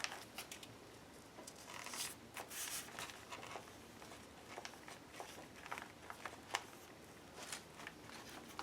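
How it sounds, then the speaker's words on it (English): Crinkly vellum pocket handled in an altered book, soft irregular papery rustles and crackles, close and fairly faint, with scattered sharper crinkles and no speech. "The vellum pocket makes some fun noises. Crinkly."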